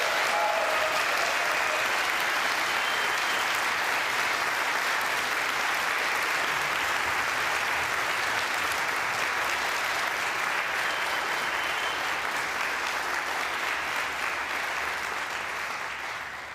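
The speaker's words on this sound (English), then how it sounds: "I would like to invite the audience at this point to applaud for the candidates" Sustained applause from a large audience at a political candidates' forum, dense and steady clapping throughout, loud and continuous with no voices standing out.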